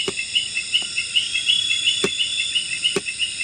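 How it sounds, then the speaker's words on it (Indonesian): Crickets chirp steadily at night beside a river, a dense continuous high trill with a few sharp clicks or calls cutting through, no voices. "jangkrik, suara burung, suara kodok"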